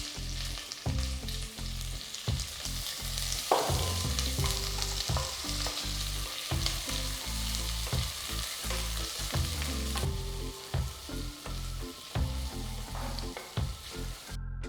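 Steady frying sizzle of thinly sliced onions in hot oil with whole spices, occasional stirring scrapes and clinks, close and continuous, no talking.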